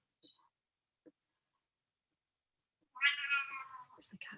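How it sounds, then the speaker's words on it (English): A cat meows in a drawn-out, close, fairly loud call near the end, with a few faint taps and clicks before it in an otherwise quiet room. "There's the cat again."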